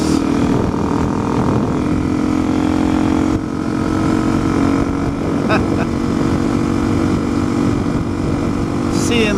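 A Suzuki DRZ250 motorcycle cruising in top gear, its engine droning steadily up close with continuous wind rush, briefly dipping once before resuming.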